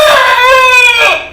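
An aseel rooster crows once close by, a loud, drawn-out cry with a strained, harmonic rise and a falling tail, alone without talk.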